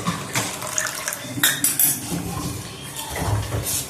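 Water is poured into rice flour batter in a cooking pot, with ongoing clinks and scrapes of utensils against the pot and a steady wet swishing throughout.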